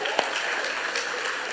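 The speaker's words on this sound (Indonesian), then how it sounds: "kenapa banyak yang tepuk tangan ya?" A church congregation clapping, a dense patter of many hands heard from a distance, steady and fairly soft with one sharper clap near the start.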